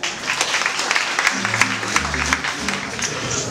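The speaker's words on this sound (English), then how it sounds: "Give another nice round of applause." Wedding guests at a reception at Roswell Mill in Roswell, Georgia, applaud in a steady round of clapping, with low voices and music murmuring underneath.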